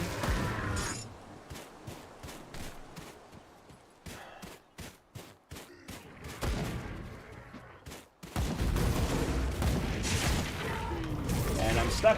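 Gunfire in the action RPG Grim Dawn, played as a Pyromancer. A steady run of rapid, evenly spaced sharp shots gives way to a dense, loud burst of overlapping gunfire and combat noise.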